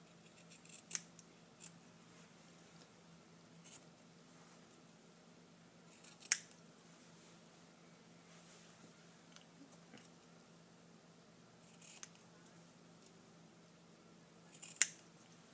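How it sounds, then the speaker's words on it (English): Scissors clip the corners of a sewn fabric piece, several faint, sharp snips spaced apart over a quiet room background. "The only thing I'm going to do now is just clip the corners so they're nice and a little bit crisper"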